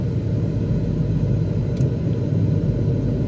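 A Cessna 172's engine in Microsoft Flight Simulator makes a steady, loud, low rumbling drone that stays constant across the whole stretch, with no voices over it.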